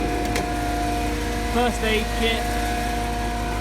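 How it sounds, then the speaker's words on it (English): A compressor and generator run beneath the engine of a 2013 Ford Transit mid-wheelbase high-roof mobile workshop van, giving a steady droning mechanical hum with a constant tone, while someone talks briefly over it. "So this noise here is the compressor and the generator running under the engine."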